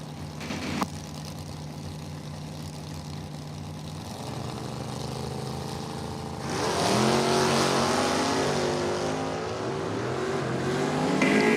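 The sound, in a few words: drag race: Chevy Blazer against 72 Nova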